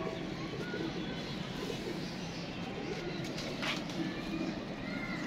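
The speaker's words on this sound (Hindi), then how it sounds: "कबूतर भी अच्छा लग रहा है दोस्तों।" Ferozpuri pigeons coo nearby in soft, repeated throaty calls over a noisy background, with a hint of a voice in the mix.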